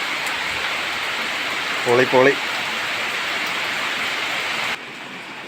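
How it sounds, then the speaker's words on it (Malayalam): Heavy rain pours down in a steady, loud broadband roar that runs almost the whole way through, with a short spoken word breaking in partway. "നല്ലൊരു മഴയാണ്."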